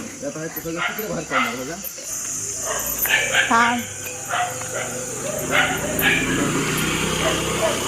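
Several neighbourhood dogs bark and yelp at a golden retriever during a morning walk, repeated sharp barks at varying distances with an insect-like buzz behind.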